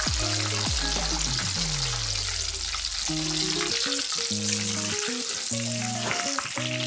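Boondi fries in hot oil with a loud, steady sizzle for kara boondi masala. Stirring clinks and rattles in the pan over the continuous crackle.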